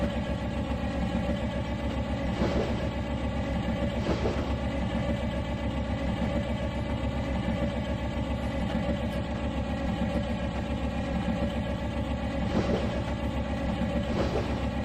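A freight train with boxcars rolls along in the Trainz 2019 railroad game, a steady low engine drone and rumble running throughout with faint periodic clanks, even and continuous.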